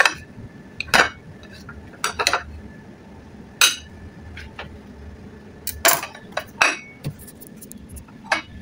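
A rolled Nutella crepe is cut with cutlery on a plate, giving scattered sharp clinks and scrapes at irregular intervals, fairly close and alone with no talk.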